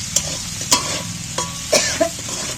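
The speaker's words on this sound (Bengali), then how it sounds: "আমি হালকা করে ভাজবো বলি সবসময় নাড়বি" Onions frying lightly in a pan, a soft continuous sizzle broken by several sharp scrapes of a spoon stirring them, close and without talk.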